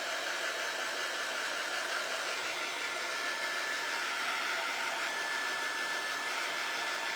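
A hair dryer blows hot air onto acrylic paint on a pumpkin built from Jenga blocks, giving a steady, even whoosh that runs without a break and stays fairly quiet and close.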